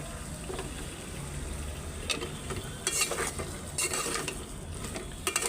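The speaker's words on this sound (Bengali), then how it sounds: "আলুটা ভালো করে কষায় রাখছি" Chunks of eggplant and potato sautéed in a pan, a quiet background sizzle broken by occasional scraping stirs and light clinks of the spatula.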